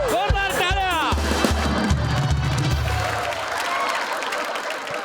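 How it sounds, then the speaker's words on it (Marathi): A studio audience applauds during an award announcement on a Marathi comedy show, a loud wash of clapping and crowd noise following a brief voice, with rhythmic music thumping underneath. "जोरदार टाळ्या."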